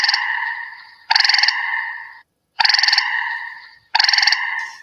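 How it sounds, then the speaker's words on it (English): Gray tree frog calling in a series of short, loud musical trills close by, each burst about a second long with brief pauses between, no other sounds. "So this is the gray tree frog."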